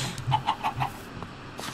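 Minecraft chickens give a quick run of four clucks close by, then fall quiet apart from one or two soft extra clucks near the end of the short burst.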